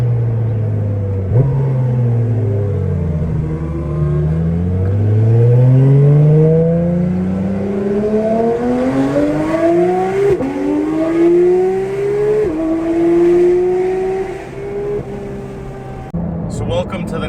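A Porsche 992 GT3 Touring engine drives and revs up through the gears, loud rising engine pitch climbing and dropping with each shift, an interior-sounding steady roar throughout.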